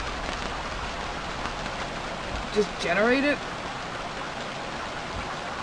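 Steady rain falling across an island in the survival game Stranded Deep, a constant wash of drops on surfaces that runs throughout, with a voice briefly speaking over it midway.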